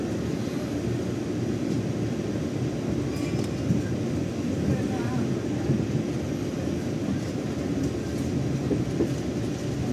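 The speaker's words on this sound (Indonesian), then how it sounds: "kereta api Tegal Bahari berangkat dari stasiun Tegal menuju stasiun akhir stasiun Jakarta Pasar Senen." Tegal Bahari passenger train pulling out of Tegal station toward Jakarta Pasar Senen, a steady low rumble with faint wheel clatter over the rails, moderately distant and continuous throughout.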